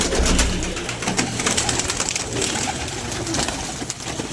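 Pigeons coo continuously at close range, a soft throaty cooing mixed with fluttering and shuffling from a flock of domestic birds gathered around scattered grain.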